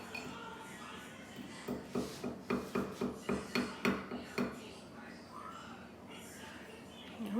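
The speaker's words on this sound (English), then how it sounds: "now I'm done stirring my lemonade" A spoon clinking rhythmically against a glass while stirring lemonade, about a dozen quick taps in a steady run, close and fairly quiet, with a voice speaking around it.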